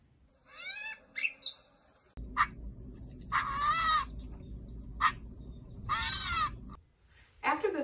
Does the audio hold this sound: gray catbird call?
yes